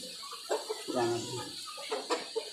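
Colombian Brahma hens on a Rajshahi farm cluck in short, close bursts with a few louder calls, and a voice talks alongside them.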